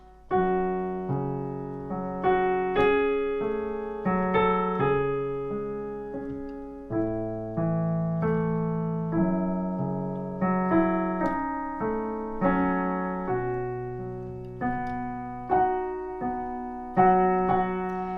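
A solo piano plays a line from Corpse Bride, a melody over chords with repeated octave Fs and a steady, moderate phrasing throughout, clear and close.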